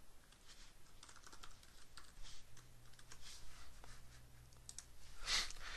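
Someone types on a computer keyboard while entering an email address and password into FCS Express 4 on Mac OS X, producing quick, irregular close clicks and key taps against a quiet room.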